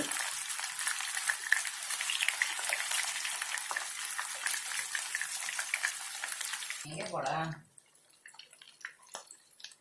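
Chicken leg pieces sizzling and spitting in hot oil in a pan just after being flipped, a loud continuous close frying hiss that suddenly drops away near the end, leaving faint clicks.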